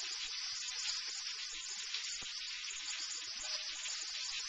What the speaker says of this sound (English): I'll leave those stir frying for about 5 minutes, and that should soften them.